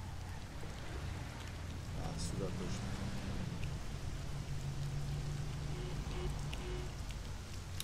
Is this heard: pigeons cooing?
no